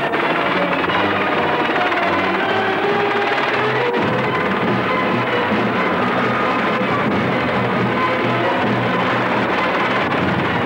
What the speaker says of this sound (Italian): Gli uomini del team navale vengono recuperati dagli elicotteri